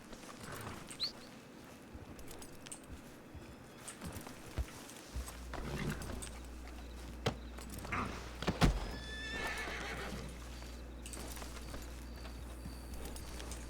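A horse whinnies sharply while hooves clip-clop steadily in a Red Dead roleplay game, with game-like ambient sounds and a low hum in the background.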